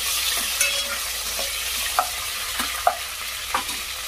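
Tomato and mint are stirred into ginger-garlic paste frying in a pan, a soft continuous sizzle broken by several distinct scraping strokes of the spoon, close by.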